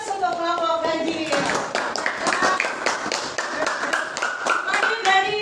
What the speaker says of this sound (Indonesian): tepuk tangan untuk kelompok ganjil